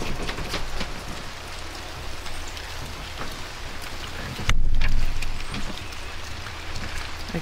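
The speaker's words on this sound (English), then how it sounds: "It is raining." Rain falling on a garden during fencing work, a steady hiss of drops with scattered taps, interrupted midway by a brief louder rumbling burst before the patter continues at moderate level.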